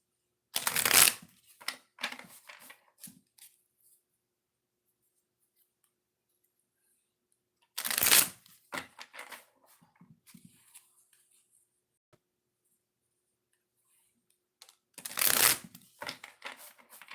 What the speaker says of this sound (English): Shuffle these.